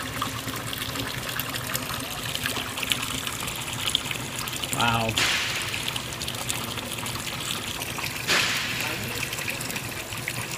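Water mixed into a car engine's oil drains into a bucket, a continuous close trickling and splashing stream with a couple of brief louder gushes, while a person makes a short exclamation.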